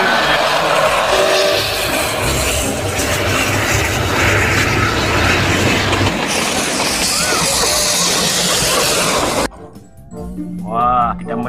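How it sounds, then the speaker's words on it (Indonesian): A toy train runs around its track, giving a loud, continuous whirring rattle that carries on steadily for several seconds, then drops sharply as a voice comes in near the end. "coba lihat kereta apinya mengelilingi mainan teman-teman"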